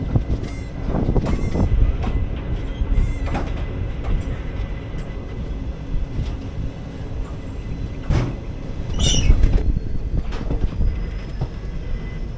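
Special express train pulling into Velankanni station, with a steady rumble and rhythmic clickety-clack of wheels over rail joints, louder bursts of clatter and a brief squeal, heard from on board with no talking.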